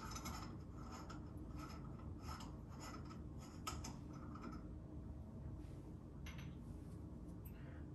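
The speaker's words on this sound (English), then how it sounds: "so we just need to unscrew this" A metal cap being unscrewed from the front of a mixing valve, producing a continuous gritty scraping and rasping of threads with brief metallic ticks over a steady background hum, close and moderately quiet.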